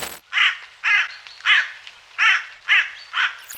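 A carrion crow caws six times in a steady, evenly spaced series, harsh and close, with no other sounds around it.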